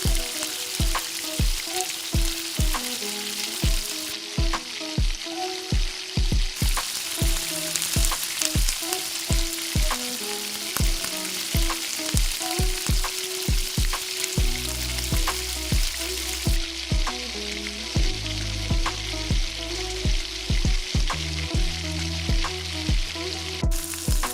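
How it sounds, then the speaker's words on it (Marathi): Potato vadas deep-fry in oil over a medium flame, a loud, unbroken bubbling sizzle that runs throughout, studded with rapid, regular crackling pops. "हळूवार तेलामध्ये सोडायचे आहे गॅसची फ्लेम आता मीडियम करून घ्यायची आहे नाहीतर बटाटे वडे करपू देखील शकतात"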